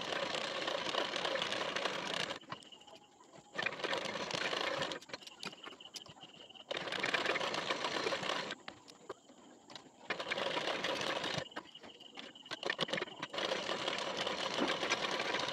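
Sewing machine stitching along the edge of a blouse back panel: fast, steady mechanical chattering in several runs a few seconds long, with short pauses between them, fairly close and alone.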